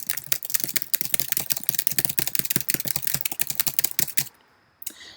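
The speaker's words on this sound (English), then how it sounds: "And notice what happens when I start my typing." Rapid typing on a computer keyboard while working in Microsoft Word, with a dense run of crisp key clicks that stops abruptly near the end, followed by a short pause and one final tap.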